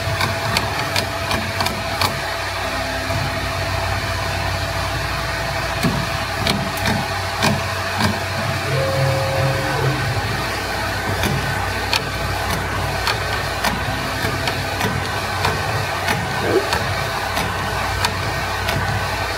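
A Ricoh Ri 4000 DTG garment printer running while it lays down color ink after white ink layers, producing a steady, loud mechanical hum and whir with faint periodic tonal motor sweeps and ticks throughout.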